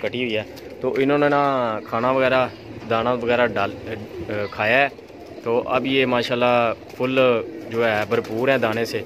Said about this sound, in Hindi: इसमें ये जो कबूतर बोल रहा है